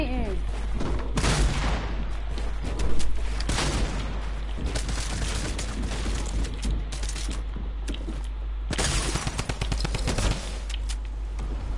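Turret gunfire in Fortnite, rapid loud bursts of automatic shots in several long volleys with brief pauses, mixed with game effects and a player's voice talking over it.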